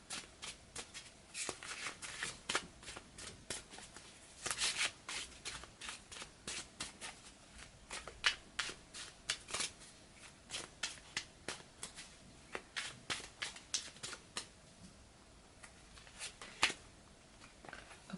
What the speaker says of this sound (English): So I'm just going to start shuffling the cards